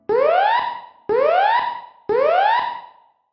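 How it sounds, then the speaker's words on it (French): A university building fire alarm sounds three identical rising electronic whoops, each about a second long with short gaps, loud, close and alone. "Voici le bruit que fait une alarme incendie."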